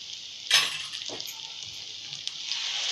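Masala paste for matar paneer drops into hot oil and breaks into a loud, bright sizzle, then keeps frying with a steady hiss, broken by a few soft stirring scrapes.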